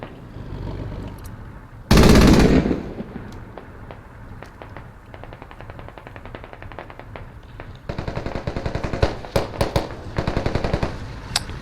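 Bursts of automatic gunfire in the video game Squad, with a loud blast near two seconds, then scattered shots and rapid volleys growing louder toward the end.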